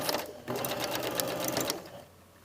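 Sewing machine at normal stitch length setting in a jacket sleeve, a close whirring run of rapid stitching that stops near the end, leaving quiet.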